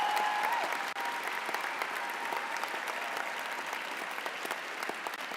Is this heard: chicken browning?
no